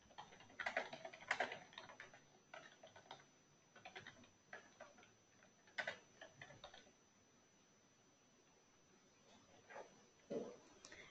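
Someone types on a computer keyboard while working in translation software, with scattered bursts of quick, light, close key clicks separated by quiet pauses.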